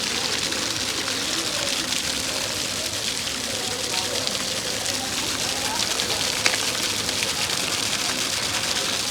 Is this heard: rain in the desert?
yes